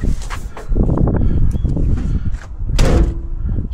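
Driver's side door on a 1992 Jeep YJ with a repaired latch swings shut in a couple of close, heavy clunks and rattles, with a sharper latching bang near the end.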